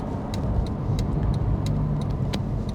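A 20-year-old Porsche 911 with refreshed suspension drives along a road with a steady, close engine and tyre rumble, broken by a few faint ticks, and no voices.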